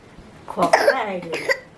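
A sick child with a heavy cough coughs in two rough, harsh bursts close to the mic, a short pause between them, with quiet background otherwise.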